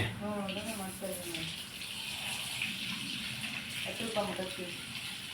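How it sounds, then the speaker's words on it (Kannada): Running water gushes and splashes steadily close by as plants are watered, while people talk over it. "ಗಿಡಕ್ಕೆ ನೀರು ಹಾಕಿ."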